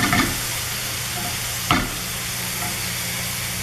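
Ground turkey fries in oil in a pan for homemade chili, a steady low sizzle broken by two quick scraping stirs near the start and middle.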